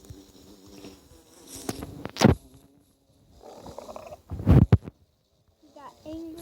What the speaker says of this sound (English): We got angry bees.